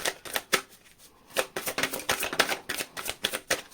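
A tarot deck is shuffled by hand in quick, crisp riffles, a dense run of sharp card flutters and snaps with one short pause, close and fairly loud.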